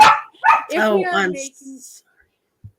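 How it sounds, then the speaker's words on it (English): A puppy barks and yips in a quick run of sharp, high-pitched calls close by, followed by a short silence and one faint yelp. "sorry, my puppy is barking"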